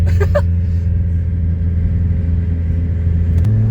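A turbocharged 200whp Mazda Miata engine pulls hard on low boost, a loud, close, steady mid-pitched rumble that rises slightly toward the end, with brief clatter at the start.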